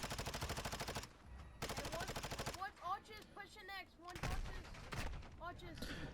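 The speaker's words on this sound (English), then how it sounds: "Takes another long range gunfight." Long-range gunfire from a Modern Warfare II ranked match, in rapid automatic bursts and scattered single shots, loud and close, mixed with game effects.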